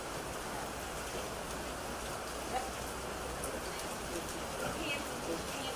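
Continuous rain hisses across an outdoor gathering of citizens in Baton Rouge, a broad, even wash of falling drops with a few faint voices blending in underneath.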